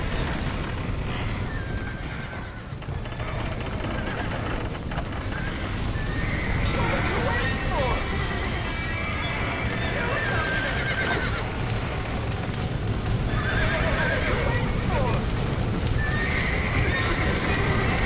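Horses neigh and whinny repeatedly in the Red Dead Redemption video game, high cries rising over a constant rumble of hooves and commotion, with people talking amid the scene.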